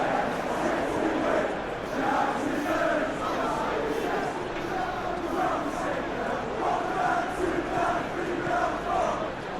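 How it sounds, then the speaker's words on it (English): Unhappy football stadium crowd in PES 2021, a sustained loud mass of voices with whistling and jeering tones rising and falling throughout, no clear single voices above it. "Well, the crowd aren't happy."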